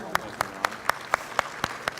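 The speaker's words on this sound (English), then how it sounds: "Clap for that, too." A single pair of hands claps alone in a slow, steady rhythm, eight crisp even claps over two seconds at a live talk event, with no crowd joining in.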